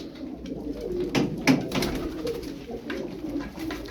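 Tumbler pigeons coo and call close by, soft overlapping throaty sounds continuing throughout with a few sharper accents.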